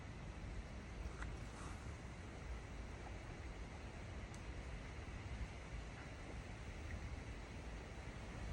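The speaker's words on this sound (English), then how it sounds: "it's pretty windy out here" Steady wind blowing outdoors on a fishing outing, a continuous broadband rush with gusty buffeting against the microphone and no talking.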